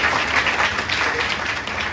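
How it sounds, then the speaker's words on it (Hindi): A short burst of audience clapping during a talk: steady, dense applause from a crowd, even in loudness throughout. "एक बार दोबारा से जोर से तालियां बजाइए"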